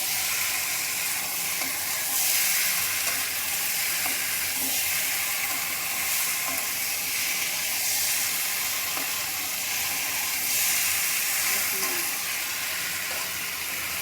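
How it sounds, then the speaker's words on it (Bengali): Boiled bottle gourd and potato are stirred with spices in a hot oiled pan for a prawn lau dalna. A steady, even sizzle and hiss runs throughout, with faint scraping underneath and no talking. "মশলার সঙ্গে লাউ এবং আলুটা একটু নেড়েচেড়ে মিশিয়ে নেব।"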